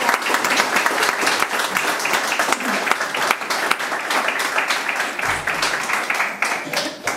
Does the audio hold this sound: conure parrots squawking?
no